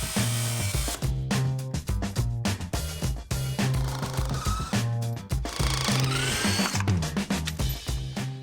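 A power tool cuts through the welded steel steering shaft of a Jeep, giving loud, rapid buzzing bursts broken by short pauses and repeated again and again, with no voices.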